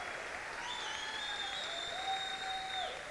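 A church congregation claps steadily for a few seconds, with soft continuous applause and a faint sustained musical tone from a keyboard underneath.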